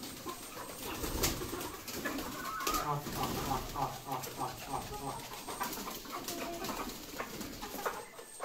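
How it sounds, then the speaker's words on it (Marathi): Pigeon cooing at a hen and fish farm setup, soft repeated coos under background bird calls and quiet voices, at a moderate distance. "आता कबूतर पकडणार आहे."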